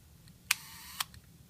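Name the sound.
medium format view camera shutter opening and closing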